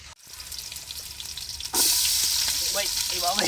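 Biryani cooking in ghee in a pot, starting with quieter background noise before a sudden loud, close frying hiss erupts and continues steadily, with faint clinks and stirring.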